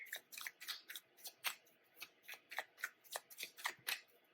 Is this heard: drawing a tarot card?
yes